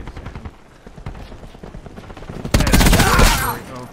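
SAUG 9mm submachine gun firing in Black Ops 4, a loud sustained burst of rapid automatic gunfire that erupts suddenly after a stretch of quieter game ambience and fades slightly toward the end.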